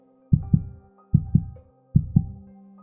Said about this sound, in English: We can hear our bassy heartbeats going.